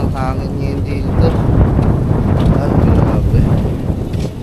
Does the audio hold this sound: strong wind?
yes